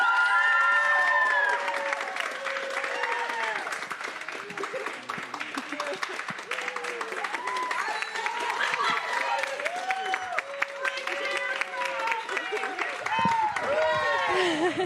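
Audience in a tent at an award ceremony applauding and cheering loudly for a winner, steady dense clapping with whoops and shouts sustained for about fifteen seconds and no clear talk.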